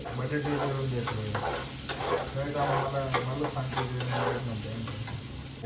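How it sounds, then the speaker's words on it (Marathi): Chopped onion sautés in a pan for pav bhaji, a continuous moderate sizzle with spatula stirring and scraping strokes repeating throughout, close by; a low hum sits underneath. "कांदा परतत आलाय आपला"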